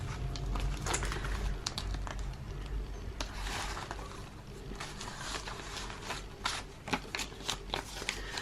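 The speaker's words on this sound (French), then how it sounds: "comme les enveloppes sont plus petites, on doit donc plier les billets" Paper banknotes are folded and slipped into small envelopes, making soft continuous rustling and crinkling close by, with occasional sharper paper snaps, all quiet and without speech.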